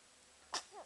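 A single tiny, soft sneeze from a baby, followed by a faint whimpering breath, in an otherwise quiet room.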